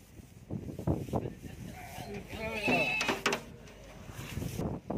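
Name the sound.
sheep bleating while being loaded onto cargo vehicle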